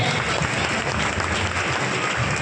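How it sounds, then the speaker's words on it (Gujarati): Loud, steady applause fills a community gathering's hall as a woman named Manishaben is honoured, dense clapping from a large audience sustained throughout without a break. "જોરદાર તાળીઓથી વધાવો મનીષાબેનને।"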